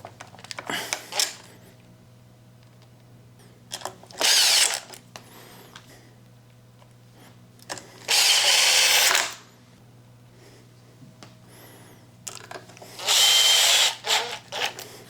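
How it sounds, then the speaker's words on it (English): A cordless drill whirs in three short bursts, driving screws to install a bash bar on a Traxxas X-Maxx RC truck, with clicks and handling noises between the bursts. "we'll go ahead and finish it up with the drill"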